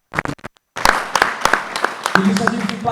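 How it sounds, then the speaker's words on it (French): Scattered hand claps from an audience at a music album press conference, a few sharp claps at first, then a brief gap and a thicker patter of applause with voices mixed in. "Donc applaudissez."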